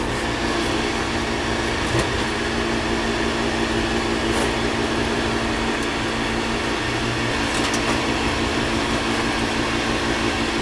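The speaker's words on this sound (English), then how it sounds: "This is an old motor." An old Beckett oil burner motor runs with a constant, loud mechanical hum and whir, steady and unbroken throughout.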